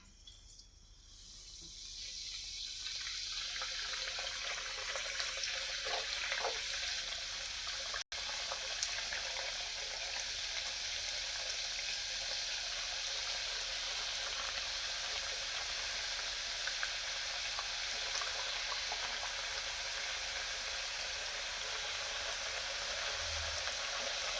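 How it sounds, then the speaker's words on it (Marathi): Karanji pastries frying in hot oil, a steady bright sizzle that swells in the first seconds and then holds at an even level throughout, close and continuous with no talking. "आता आपण करंजी फ्राय करायला घेऊया"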